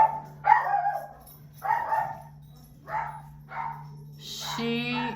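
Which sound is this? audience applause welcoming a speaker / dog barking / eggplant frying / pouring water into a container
dog barking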